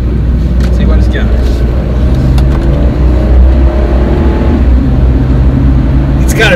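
A high-mileage 2003 Ford Excursion with a 6.8-liter V10 pulls ahead under acceleration, its deep engine drone steady and loud from inside the cabin.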